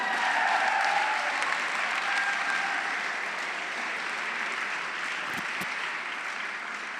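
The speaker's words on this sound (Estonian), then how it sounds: "aplaus." Steady audience applause at a stand-up comedy show, a dense wash of many hands clapping that holds evenly for several seconds and tapers slightly toward the end.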